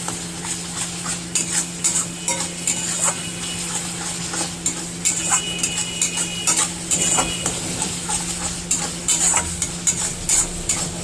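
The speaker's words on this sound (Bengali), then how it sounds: "এটা কন্টিনিউয়াসলি এভাবে নাড়াতে থাকতে হবে যাতে যাতে মশলাটা কড়ায় না লেগে যায়" Spice paste of onion, tomato and yogurt cooked over high flame in a kadai for rohu fish curry, stirred continuously with a metal spoon that scrapes and clinks in a fast steady rhythm over a constant sizzle.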